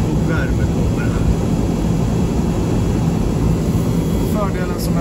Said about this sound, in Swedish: Nu har du full fläkt och värme kommer här.